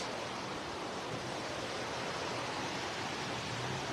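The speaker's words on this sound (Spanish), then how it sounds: "Todo el agua se viene para acá" Steady broadband rush of the Jiquilpan river, water pouring and churning nearby at dawn, a dense continuous roar with no pauses and no voices.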